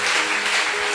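Church congregation clapping together during a French-language Sunday worship service, a steady dense wash of applause filling the space with no pauses.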